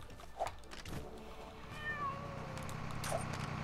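A cat meows in the Lego The Incredibles video game, two short distinct meows, one early and one near the end, over a soft game background with faint whistling tones.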